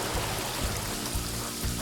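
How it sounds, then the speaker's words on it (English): Steady rain falls in the video game Paradise Killer, a soft, dense hiss of drops with no voices. "Of course it's raining."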